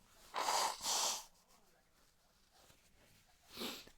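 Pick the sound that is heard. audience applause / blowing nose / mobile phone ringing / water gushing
blowing nose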